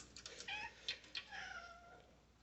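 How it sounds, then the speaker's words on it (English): Several house cats meow insistently in a kitchen, thinking a can of tuna is being opened; a few short, high, overlapping cries come in quick succession at moderate volume, with no talking. "My cats are meowing because they think it's a can of tuna."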